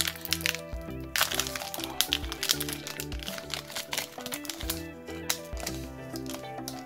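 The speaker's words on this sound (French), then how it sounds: "Les boosters OCG sont toujours infâmes à ouvrir" Crinkly plastic foil of a Yu-Gi-Oh OCG booster pack being torn open, dense crackling and crunching bursts close up, continuous for several seconds with brief pauses.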